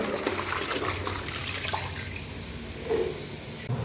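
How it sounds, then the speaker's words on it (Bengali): Water running from a bathroom tap while Malabar spinach leaves are washed, a steady close trickle and splash with a brief louder gush near the end. "এই ফাঁকে আমি পুঁই শাকটা ধুয়ে ধুয়ে নিয়ে চলে আসি"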